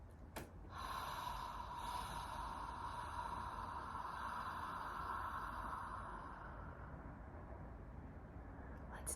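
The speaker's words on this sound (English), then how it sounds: "We're going to breathe in through our nose to the count of 5, pause, and release through our mouth to the count of 5." A long, steady breath drawn in through the nose and let out again during a guided breathing exercise, a soft continuous hiss close to the mic with no talking.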